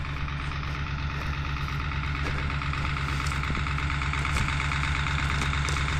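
A farm tractor engine runs steadily during spring plowing, a loud, continuous low rumble with a faint knocking pulse and no talk over it.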